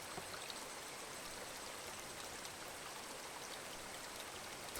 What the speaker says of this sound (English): That water, man, that really does sound relaxing. That, like, just water flowing noise.